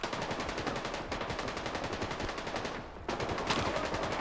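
Sustained automatic gunfire in the video game STALKER 2, rapid repeated bursts at a fairly distant, even level with two short pauses, the firing resuming sharply.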